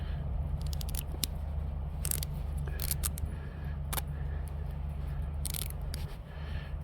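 Scissors cut a strip of tape in half, several sharp snipping and crinkling sounds at close range over a low steady hum, with brief pauses between cuts.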